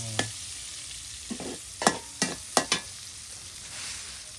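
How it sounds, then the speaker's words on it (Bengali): Tilapia fish fries in hot oil in a pan, a quiet steady sizzle broken by several sharp spatters and utensil scrapes, with no talking. "এই যে আমার মাছ ভাজা"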